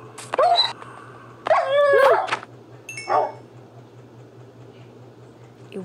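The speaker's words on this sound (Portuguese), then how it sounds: "mais um cachorro" A dog gives several sharp yips and whimpering barks in three close bursts, loud and near, followed by quieter background with a low steady hum.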